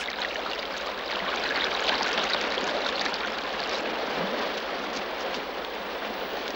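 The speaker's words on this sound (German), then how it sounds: "So, Tommy, Wassermarsch!" Water gushes out for gold washing, a dense, steady rushing roar like heavy pouring that holds at even loudness from start to finish.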